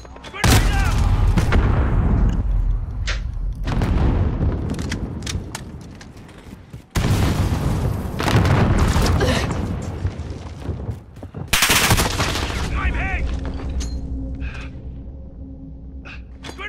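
An M680 pump shotgun firing in Call of Duty Modern Warfare: loud, booming blasts come a few seconds apart, each trailing into a rumbling decay amid other battlefield gunfire and game noise.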